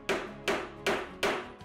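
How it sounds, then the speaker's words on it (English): Four evenly spaced, sharp hammer strikes set rivets in a leather pouch, close and crisp, each blow ringing briefly before the next, with no voices. "Then said holes were punched and rivets were set."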